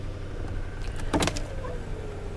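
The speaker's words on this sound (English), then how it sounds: "The important window's a little sluggish, but it works." A car's power window runs slowly and sluggishly, a brief whirring motor burst of about half a second rising over steady engine and cabin hum, close by.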